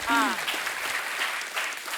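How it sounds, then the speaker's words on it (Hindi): A short burst of audience clapping on a television comedy show, brief and moderately loud, with a voice heard at its start. "आपने ताली क्यों बजाई?"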